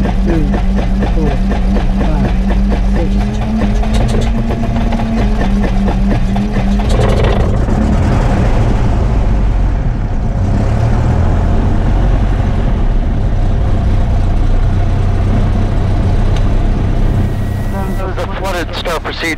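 Cessna 172SP aircraft piston engine cranking and catching, then settling into a steady loud idle close by, with people talking over it.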